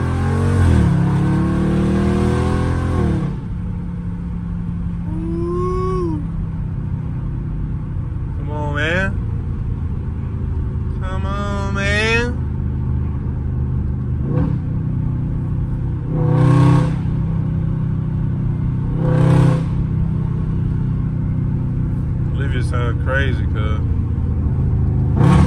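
A Dodge Charger Scat Pack on a street drive, its engine droning steadily with a few revs and swells, heard from inside the car under frequent talking.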